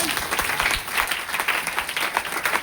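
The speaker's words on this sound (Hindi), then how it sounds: "एक जोरदार ताली आप सबके लिए" A seminar audience breaks into loud, dense applause, sustained clapping from many hands filling the room throughout.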